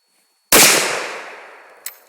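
A shotgun fires a single loud, close blast at a no dumping sign outdoors, and the boom decays through a long ringing echo. A short, sharp crack follows near the end.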